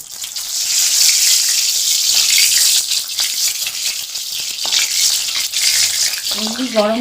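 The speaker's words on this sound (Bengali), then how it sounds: "এবারে বেগুনগুলো ভেজে নেব" Eggplant slices fry in mustard oil in a pan over lowered gas, giving a loud, continuous bright hiss and crackle throughout, with a brief voice near the end.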